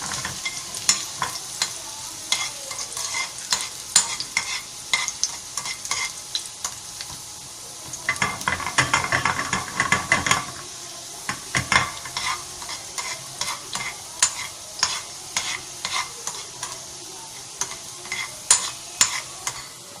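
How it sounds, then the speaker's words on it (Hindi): Chopped garlic fries in ghee or oil for a chilli garlic sauce and is stirred. A steady sizzle runs under repeated close scraping stirs of a spoon in the pan, coming in irregular bursts throughout. "और इसमें जो हमने लहसुन था चॉप किया हुआ वो हमने डाला है। इसे गोल्डन ब्राउन करेंगे हम।"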